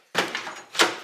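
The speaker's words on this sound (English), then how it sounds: "there's the first latch" Door latch of a 1963 Dodge D100 pickup truck closing, two distinct metallic thunks about half a second apart, close by and fairly loud with no talking.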